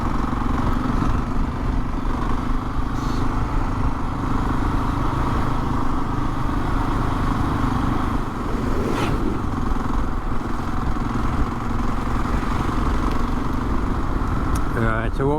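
Husqvarna 701 Enduro motorcycle ridden along winter roads in the Yorkshire Dales, its engine a steady loud drone with wind roar throughout, changing little in pitch across the ride.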